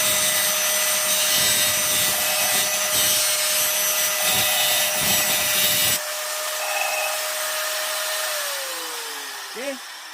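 A blunt drill bit is ground on a DIY sharpening jig with a steady, loud motorized whine and rasp for about six seconds. The sound then cuts off, leaving a fading hum and a faint tonal trail.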